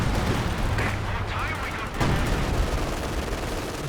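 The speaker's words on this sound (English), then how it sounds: "Dropping some Major Arty on top of the machine gun" Artillery barrage in the Company of Heroes 2 video game, a heavy and continuous rumble of blasts mixed with scattered gunfire, loud and dense from start to end, with game sounds layered over it.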